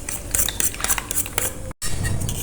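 A utensil whisks and clinks against a bowl while eggs, milk and sugar are mixed for caramel pudding, giving quick rhythmic scraping and tapping, close and steady, with a brief silent gap near the end.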